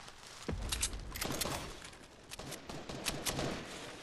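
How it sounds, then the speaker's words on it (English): Gunfire rattles in a Fortnite match, a cluster of sharp shots and bursts at middle distance over a steady game backdrop, no one speaking. "They're shooting at them somewhere."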